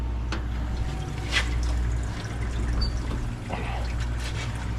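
Water pours and trickles into a Hoshizaki ice machine's reservoir as it fills, a continuous splashing flow over a low motor hum with a few louder gurgles.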